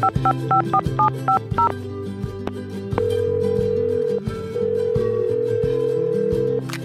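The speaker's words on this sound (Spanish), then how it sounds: "Nos vamos a conectar por teléfono con doña Elvita" Telephone keypad tones dial out to place a call: a quick series of beeps, followed by longer steady tones, loud and clear with no one talking.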